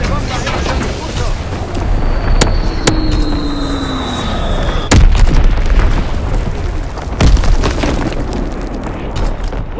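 Artillery strike explosions in Call of Duty: WWII, loud booming impacts landing one after another over a rumbling battlefield bed, with sharp cracks and a whistling incoming shell, while a radio voice talks.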